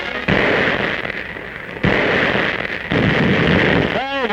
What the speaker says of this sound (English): Mortar and machine gun experts clear the way for the infantry attack.